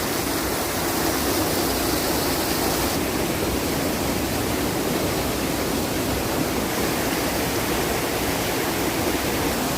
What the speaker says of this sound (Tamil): தண்ணி எப்படி ஊற்றுது பாருங்க.